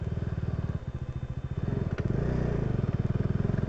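A motorcycle engine on a rough, dusty off-road track near Bhaktapur, chugging close by with a steady rhythmic thump and rising revs, with some clatter and scraping over the uneven ground.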